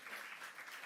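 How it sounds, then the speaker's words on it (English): Faint, distant applause from an audience at a diplomatic signing ceremony between Indonesia and the European Union, a brief steady patter of clapping. "please put a round of applause"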